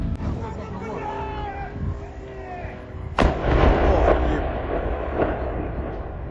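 A drone strike explodes on a factory complex: a sharp, loud blast hits abruptly partway through, followed by a rumbling, crackling decay, with voices heard before it.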